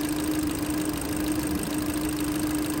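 A 2012 Kia Soul with the 2.0 engine idles roughly, a steady low droning hum with a faint uneven pulse, close by and continuous with no talking.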